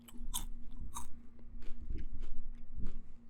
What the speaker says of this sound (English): Get that good chewing in.